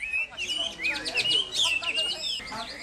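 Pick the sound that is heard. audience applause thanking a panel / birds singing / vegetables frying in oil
birds singing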